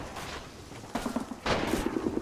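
Automatic weapon fire in the Men of War trench-line battle game, with bursts of rapid rattling shots growing louder partway through over a steady backdrop of distant combat.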